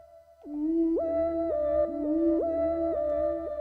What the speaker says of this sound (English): you can hear it's only playing my lead synthesizer voice right now